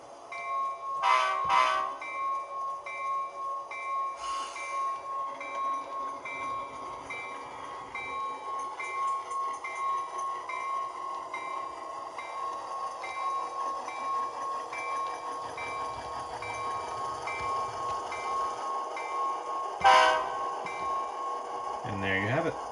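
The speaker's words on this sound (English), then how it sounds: "We'll hear the horn one more time here." A model BNSF Dash 9-44CW locomotive (Athearn Genesis) idles with a steady hum under soft running noise, its horn blasting in short bursts near the start and again toward the end, fairly quiet overall.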